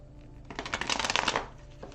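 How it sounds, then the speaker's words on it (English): A deck of Oracle of the Nile cards being shuffled, one brisk riffle of rapid fluttering clicks that lasts about a second, heard close against a quiet room. "Good shuffle."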